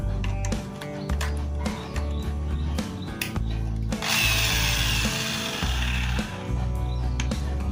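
A power drill spins a carving knife handle clamped tight in its chuck, a steady motor whine with shifting pitch, joined midway by a harsh scraping, grinding rasp against the wood.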